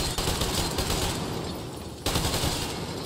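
Continuous gunfire and explosions fill a first-person shooter game (Metro Exodus or Stalker 2), with dense, loud rattling bursts that run without pause and briefly dip before resuming.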